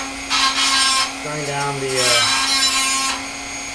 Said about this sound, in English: take the Dremel tool, kind of grind down